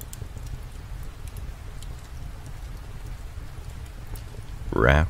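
Gentle rain patters steadily outside against a window pane, a soft continuous hiss near and quiet, before a brief voiced sound rises at the end.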